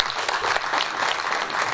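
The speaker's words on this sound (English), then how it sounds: "can you give him please a round of applause?" A steady round of applause fills a symposium hall, many hands clapping evenly and close throughout, with no pauses.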